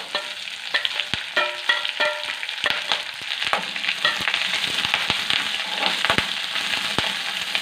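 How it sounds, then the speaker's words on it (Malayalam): Drumstick leaves are sautéed with browned onions in a pan for a Kerala-style curry: crackling frying runs under repeated sharp scrapes and stirs of a spatula, close up, with no voices. "ഉള്ളി മൂത്ത് ഇതിലോട്ട് മുരിങ്ങയില ഇടുവാണേ. മുരിങ്ങയില ഇട്ടൊന്ന് വഴറ്റുക."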